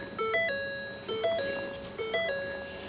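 Three repeating electronic chime sequences from a Ford Mustang door-ajar warning, a melodic stepped tone pattern recurring about once per second, clear and close with no talk.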